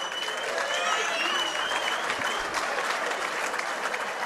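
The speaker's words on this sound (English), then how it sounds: "How about a round of applause for both fighters?" Audience at a boxing match in Windham, New Hampshire applauds steadily throughout, a dense wash of clapping with a few faint whistles mixed in.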